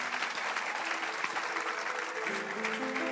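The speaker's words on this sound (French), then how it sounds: "Acclamons Jésus." A church congregation applauds in a steady, dense wash of clapping at an evening service, with some faint voices and tones underneath.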